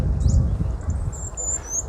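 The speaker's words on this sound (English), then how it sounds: "I can already hear the birds." Bird squawks and chirps sound in high bursts over a steady low outdoor rumble, moderately distant, with no talking.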